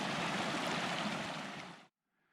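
A small mountain creek near Lambert Meadow rushes steadily in a broad, even wash of flowing water, close and constant, then cuts off abruptly near the end, leaving faint quiet.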